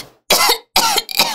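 Three harsh, loud coughs from a man close to the microphone, the first two broad bursts separated by short silences and the last one broken and rasping, with no speech.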